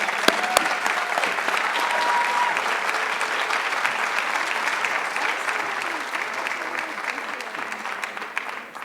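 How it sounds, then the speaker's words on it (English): Conference audience applause at an extension annual meeting awards presentation, steady sustained clapping from a large room that continues evenly throughout and tapers slightly near the end. "Let's give Liz a big round of applause."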